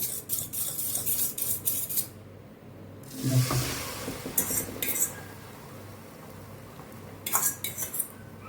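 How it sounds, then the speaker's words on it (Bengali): Beaten eggs seasoned with salt and turmeric hit a hot pan for Bengali street-style egg bhurji, giving a soft sizzle among sharp metal clinks and scrapes of a utensil against cookware, close by with no talking. "এখন আমি এই প্যানের মধ্যে দিয়ে দেব"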